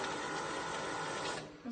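An automatic banderole banding machine wraps a stack of printed business cards in a paper band, producing a steady close mechanical whir that tapers off near the end with a brief soft clunk.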